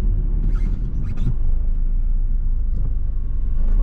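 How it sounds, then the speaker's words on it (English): A car rolls along the A350 Chippenham bypass through a village, its steady low engine and road rumble filling the whole clip without any talk. "And I finally pull up."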